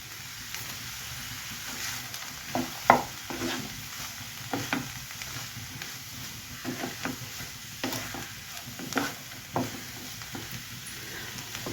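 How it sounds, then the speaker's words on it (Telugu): A spoon stirs ridge gourd and carrot curry seasoned with salt, turmeric and chilli in a pan, giving irregular scraping clacks and knocks over a soft, steady sizzle, close up and moderately loud. "ఇప్పుడు శుభ్రంగా కలుపుకొని మూత పెట్టుకుందాము."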